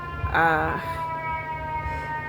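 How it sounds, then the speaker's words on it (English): An ambulance siren in a city street wails in a rising and falling tone, fairly close at first and then fading back into a steady background hum with no talking. "I live in the city, so you have an ambulance there."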